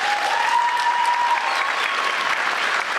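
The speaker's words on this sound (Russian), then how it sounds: "Зрители аплодируют стоя." A theatre audience gives a standing ovation after a touring show's finale, producing loud, sustained clapping from a full house, with a faint tone running through the first seconds and no speech.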